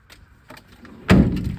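The cab door of a Renault 4x4 timber lorry is shut with one solid metallic thud, preceded by a few light rattles and clicks of the handle and catch, close and loud.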